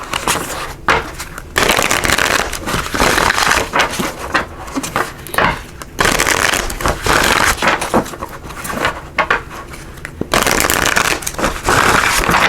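Enchanted Map Oracle cards by Colette Baron Reid are shuffled vigorously and close up, in loud riffling bursts broken by short pauses, with no voice over them.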